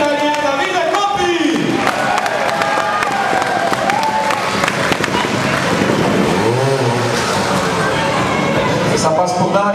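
Spectators at a Christmas motorcycle trial event in Bassecourt, Switzerland clap and cheer steadily for an Italian rider, a dense continuous crowd noise with voices and talk mixed in throughout.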